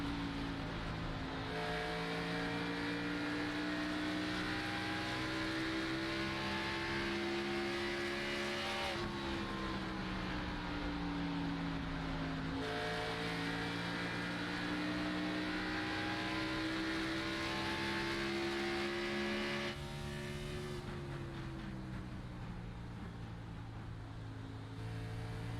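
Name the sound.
race car engine in iRacing video game, Iowa race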